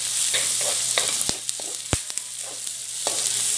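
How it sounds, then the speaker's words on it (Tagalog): Garlic and ginger sautéing in a pan for sweet and sour fish, a close steady sizzle and crackle with scraping stirs and a few sharp utensil knocks against the pan. "We will just saute it very well."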